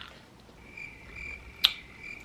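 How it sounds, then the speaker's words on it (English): A crickets-chirping sound effect gives a thin, steady high trill pulsing in short repeated bursts over a quiet, hushed background, with one brief sharp click partway through. "Crickets."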